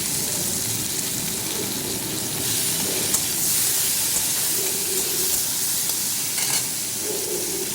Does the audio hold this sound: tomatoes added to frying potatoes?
yes